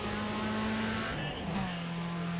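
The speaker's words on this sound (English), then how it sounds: "let's deploy the nitrous" A car engine hits nitrous boost during a drag race in Need for Speed ProStreet. The close, sustained engine drone shifts pitch partway through, like a gear change under hard acceleration.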